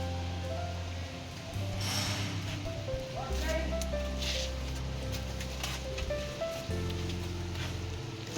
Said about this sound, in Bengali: বেশ ভালোই জোরে বৃষ্টি নেমে গেছে